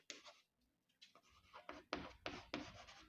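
Marker or chalk scratching across a classroom board during a chemistry lesson, a series of short, brisk strokes and scrapes with small gaps, close and fairly loud, with no voices.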